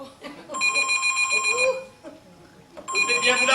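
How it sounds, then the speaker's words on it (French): A telephone bell rings in two loud bursts separated by a short pause, with a voice speaking around it in a warm indoor room. "Vous devez bien vouloir m'excuser le téléphone."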